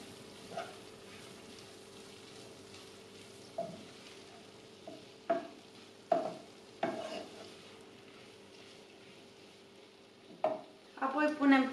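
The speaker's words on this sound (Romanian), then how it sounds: "Amestecăm puțin." Omelette and vegetables are stirred in a frying pan, a faint low sizzle running throughout while scattered utensil scrapes and taps come every few seconds, growing busier toward the end.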